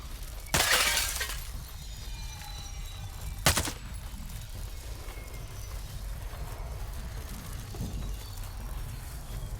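Video-game gunfire: a sharp, loud burst with a glassy shattering crash, then a second crisp shot a few seconds later, both standing out over a low continuous background hum.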